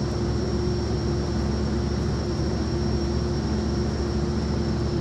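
A turboprop aircraft engine runs steadily at idle on the ground, a continuous loud drone with a steady high whine layered over a low rumble, with no talk.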